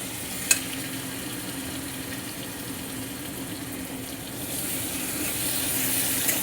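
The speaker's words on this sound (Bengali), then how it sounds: "রসুনটা একটু ভাজা ভাজা করে নেব," Garlic fries in a pan for a fish curry with a soft, steady sizzle, and a single sharp click comes early on. The frying stays faint and even throughout, with no voices.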